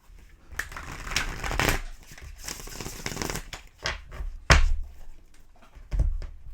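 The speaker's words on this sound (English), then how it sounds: "one more shuffle for you" A deck of tarot cards is shuffled by hand up close, with irregular rustling riffles and soft slaps of cards against one another.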